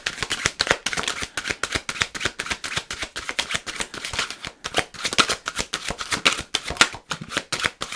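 A deck of tarot cards being shuffled close up, with rapid, continuous papery flicks and riffles in a busy repeating rhythm that carries on throughout, loud and alone with no voices.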